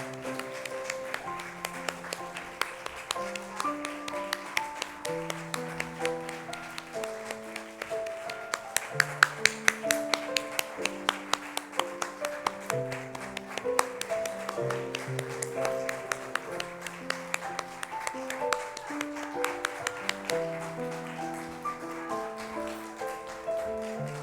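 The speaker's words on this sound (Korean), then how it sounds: "끝까지 하셔야 됩니다. 박수." Members of a Korean congregation at a Sunday morning service clap in time with hymn music for a long stretch, producing even, rhythmic claps over keyboard chords, briefly louder near the middle.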